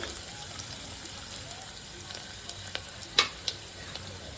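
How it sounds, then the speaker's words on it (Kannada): Green chillies and onions frying in hot oil in a pan for moong dal khichdi, a steady soft sizzle with a few light clicks of a spoon near the end. "ಹಸಿಮೆಣ್ಸಿನ್ಕಾಯಿ ಮತ್ತು ಈರುಳ್ಳಿ ಚೆನ್ನಾಗಿ ಎಣ್ಣೆಯಲ್ಲಿ ಫ್ರೈ ಆಗಬೇಕು."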